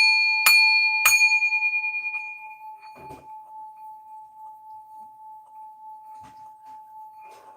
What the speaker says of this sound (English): We're going to clear our energy with a bell.